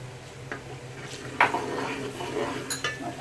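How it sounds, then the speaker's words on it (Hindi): Masala of roasted ground cumin, dry coriander and black pepper is stirred in a pan for beef dum kabab gravy, giving scattered clinks and scrapes of a spoon against metal with a faint sizzle, moderately close and without talk. "तो मसाले को अच्छी तरह भून लें।"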